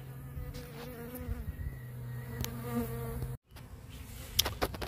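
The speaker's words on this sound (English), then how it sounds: "I can see a few bees coming to it." Honeybees buzz around a swarm hung up outdoors, a steady close drone with individual bees passing by, briefly cut off before resuming, no talk.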